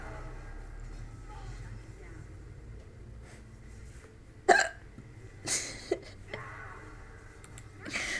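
A person hiccups a few times, short sharp bursts spaced irregularly over a quiet room background, with no other voice heard.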